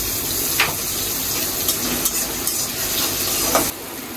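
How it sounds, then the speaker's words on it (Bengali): Onions frying with salt in oil, a loud continuous sizzle with a few soft stirring clicks, which cuts to quieter sizzling near the end, with no talk. "দিয়ে দিচ্ছি একটু লবণ, তারপরে পেঁয়াজটা একটু নরম হয়।"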